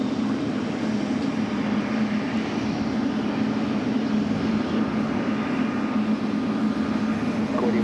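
A Boeing 777 bound for Mumbai takes off from runway 4 Left at New York's JFK airport, its jet engines a steady, loud, continuous roar that holds without a break.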